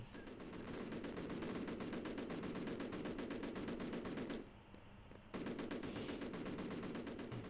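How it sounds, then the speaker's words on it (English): Rapid continuous machine-gun fire in the Cannon Fodder video game, dense and loud throughout, breaking off briefly for about a second before resuming at full intensity. "Throw a grenade at them."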